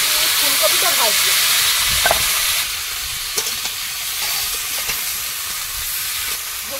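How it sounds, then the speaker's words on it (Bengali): Cauliflower frying in oil in a wok, a loud hissing sizzle that drops in level partway through and continues with scattered pops and stirring knocks, a voice briefly audible early on. "কড়াইতে আবার একটু তেল দিলাম আর এখানে ফুলকপিটা ভাজবো।"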